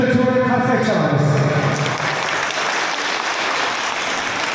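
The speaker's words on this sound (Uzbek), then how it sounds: "Hurmatli o'quvchilar, bitta chiroyli qarsak chalamiz." Pupils at a first-grade literacy celebration in an Uzbek school break into loud, dense applause that fills the room, with a voice talking over the opening seconds before the clapping settles into a steady roar.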